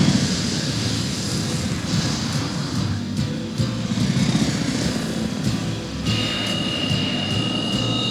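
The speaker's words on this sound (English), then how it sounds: "helicopters are bombing the Tokyo Bay Crossing Bridge!" Helicopters attack a Tokyo Bay crossing bridge in the anime film Patlabor 2, their engines a steady roar under scattered bangs and rumbles at moderate loudness.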